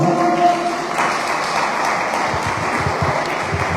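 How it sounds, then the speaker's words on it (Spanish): A church congregation claps in applause for a new law graduate, a short, moderately loud burst of many hands that thins slightly toward the end. "Sí, dale un aplauso."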